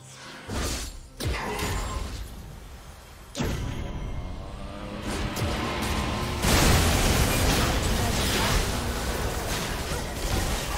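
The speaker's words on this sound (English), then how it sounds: "Blue team's turret has been destroyed." A defensive turret collapsing in League of Legends, a loud booming crash with whooshing debris that swells into a sustained roar, with a few sharp impacts early on.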